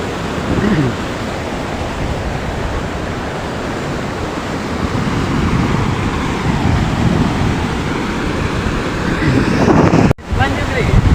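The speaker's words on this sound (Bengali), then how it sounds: "একদম জলটা বইছে তার পাশে আর কি দাঁড়িয়ে আছি" Broadband rushing of a swollen river flowing past someone standing on the bank, steady and loud with wind buffeting the microphone, and a brief handling thump near the end.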